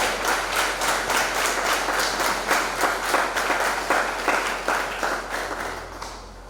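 A congregation at a parish feast-day celebration for the Groupe Consolateur des Affligés claps in a regular, almost synchronized beat, loud and continuous, fading slightly at the end.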